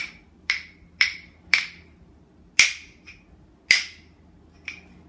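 Rhythm sticks struck together in a children's music class: seven sharp, dry wooden clicks in an uneven beat, close and crisp, each decaying quickly into near silence.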